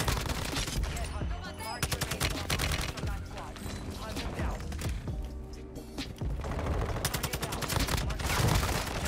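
Rapid automatic fire from a TAQ 56 rifle in the Warzone battle royale game, loud repeated bursts of sharp cracks with brief gaps between strings, over a musical, tonal game backdrop.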